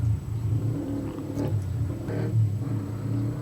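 A loud road vehicle passes outside, a steady low engine rumble with slight revving swells throughout, heard alone without talk.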